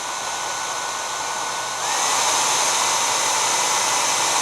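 A hairdryer powered through a caravan's off-grid power inverter runs as a steady, loud broadband whoosh, which jumps louder about two seconds in as the dryer steps up and then holds constant to the end.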